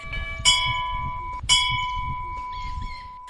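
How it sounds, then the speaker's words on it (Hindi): Temple bells ring out in a quiet village morning, two clear strikes each leaving a long, bright shimmering tone that decays slowly over a low background murmur. "मंदिर की घंटियां धीरे धीरे गूंज रही थी"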